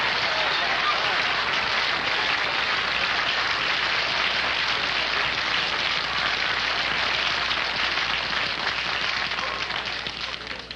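A studio audience on the Groucho Marx quiz show You Bet Your Life breaks into long, dense applause, a steady wash of clapping that holds loud for about ten seconds before starting to fade.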